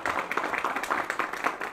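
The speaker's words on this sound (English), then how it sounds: "Round of applause for." Conference audience applauds panelists, a dense continuous wash of many hands clapping at steady loudness with no voices over it.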